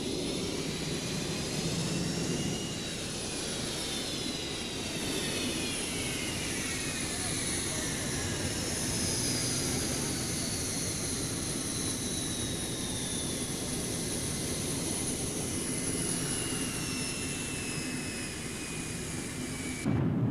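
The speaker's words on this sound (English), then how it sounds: "the massive Pratt & Whitney F-100 turbofan engines, part of the secret of the Eagle's phenomenal performance, are brought up to take-off thrust" The Pratt & Whitney F-100 turbofan engines of an F-15 Eagle spool up toward take-off thrust, a loud, steady jet roar with whining tones that slowly sweep in pitch, held throughout.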